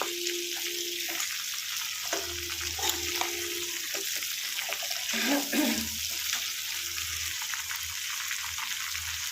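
Crab pieces fry in a pan on a lowered flame for a crab kosha curry, producing a continuous close sizzle and hiss with faint low thuds and bubbling underneath.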